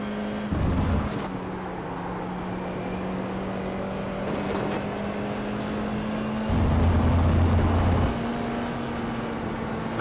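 Formula iR-04 race car engine in iRacing at Barcelona, a steady high-pitched drone with tonal whine throughout, swelling louder in two bursts under throttle, no talking.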